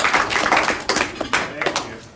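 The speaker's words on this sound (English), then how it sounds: "Let's give him a round of applause." A round of applause at a formal presentation, an uneven patter of handclaps in a room that swells and fades over a couple of seconds, with some voices mixed in.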